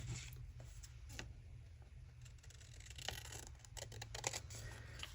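Scissors snip through scraps of paper while making tags and journaling cards, a series of quiet, close, crisp cuts and rustles over a low steady hum, with no talking.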